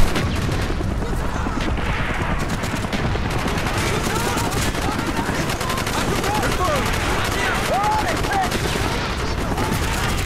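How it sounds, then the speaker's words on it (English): Dense gunfire from Call of Duty: Black Ops fills the scene, with shotgun blasts mixed into a steady, loud barrage of shots and explosions and a voice talking now and then. "That's a shotgun."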